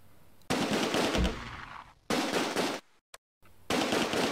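Bursts of BAR automatic rifle fire in the Close Combat World War II strategy game, three loud sustained rattling volleys separated by short pauses.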